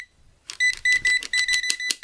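Tesmen TMM-569A multimeter sounding its non-contact voltage alarm: a fast series of about eight bright electronic beeps in a steady pulsing rhythm, close and clear with no talk.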